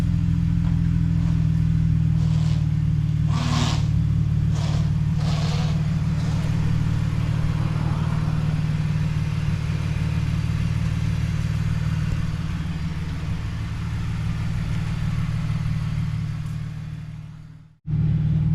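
A 2003 BMW Z4 roadster drives around a block, its engine a steady low rumble with tyre and road noise throughout, rising briefly around a few gear changes, then cutting off abruptly near the end.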